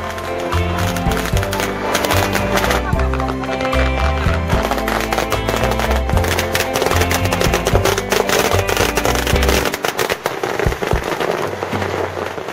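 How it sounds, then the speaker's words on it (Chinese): Strings of firecrackers crackle continuously from a bridge and from a new fishing boat arriving at a harbour for its launch celebration, loud rapid popping bursts that stay dense throughout and thin out briefly near the end. "平浪桥上与船上的鞭炮不约而同的燃起"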